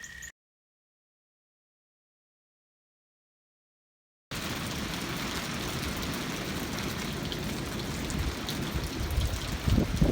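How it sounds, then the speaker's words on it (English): Steady rain falling on a cold, windy day near a cattle pasture, a continuous broadband hiss with dense patter that starts abruptly after a few seconds of silence and holds loud and even to the end. "it's past noon and it's raining again"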